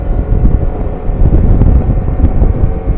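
Strong wind roars steadily across the microphone at Loyola Memorial Park, a constant low, buffeting rumble with no pauses throughout.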